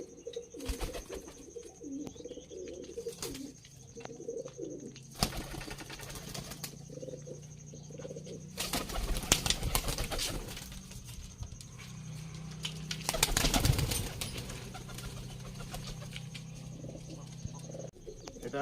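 Dubai breed high flying pigeons, a female among them being released, with repeated soft cooing and bursts of wing flapping and fluttering, some close and loud, over a quiet outdoor background with no talking.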